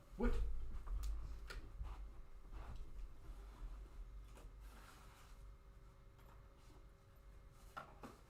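A dog whines softly indoors, with faint, intermittent whimpers over quiet room noise and a few scattered clicks and knocks.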